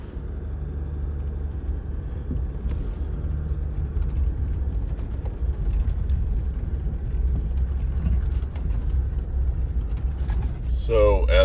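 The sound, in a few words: vehicle driving up a mountain road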